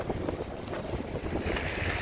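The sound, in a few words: strong wind during a snowstorm in Chicago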